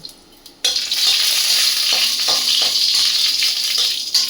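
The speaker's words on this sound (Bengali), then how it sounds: "একটা পাঁচ ফোড়ন একটা শুকনো লঙ্কা আর তেজপাতা দিয়ে দেব" Panch phoron five-spice, a dried red chili and a bay leaf drop into hot oil for a mango chutney, setting off an abrupt, loud, continuous sizzle right up close that holds steady after a quiet start.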